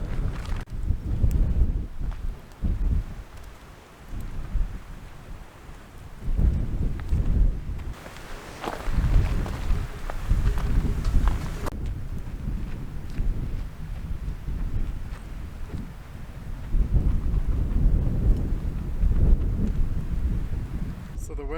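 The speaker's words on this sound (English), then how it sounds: "there's some pretty good gusts coming through" Strong wind gusts buffet a campsite in the desert of Big Bend, roaring and rumbling across the microphone in waves, loud and continuous with surging peaks and no speech.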